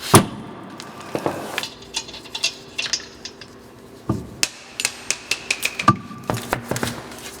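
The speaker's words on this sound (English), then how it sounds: "Nothing a sledgehammer won't fix." A sledgehammer bangs on the muffler of a 2001 Acura Integra GSR during a muffler replacement, with a series of sharp metallic strikes in irregular rhythm, loud and close with no talking.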